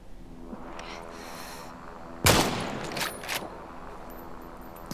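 Gunfire sounds in the Super People video game as one sudden, loud burst of shots over low game ambience, followed by a few fainter pops and a decaying tail.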